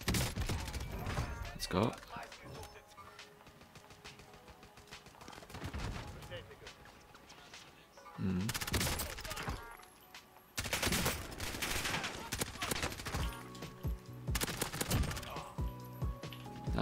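Gunfire from M4A1 and MP7 weapons in the video game Warzone, loud automatic bursts in several clusters separated by quieter gaps, with players talking over the action.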